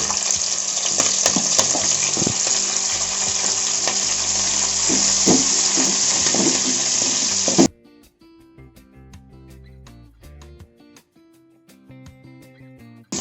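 Chopped green chillies drop into hot oil in a frying pan for chilli chicken, giving a loud, dense sizzle for about seven seconds that cuts off abruptly, followed by quieter scattered pan clicks and light stirring.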